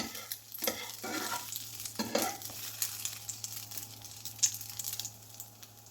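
Slices of bread toasting in a pan until golden brown, with a steady soft sizzle broken by close scraping and stirring strokes from a utensil against the pan.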